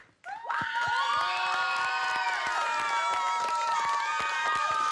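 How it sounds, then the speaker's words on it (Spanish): Studio audience on a Spanish-language TV show erupting into sustained applause, whistles and excited shouts for a contestant during the vote, starting abruptly after a brief quiet moment and staying loud and steady. "El aplauso para Faustino Oropesa."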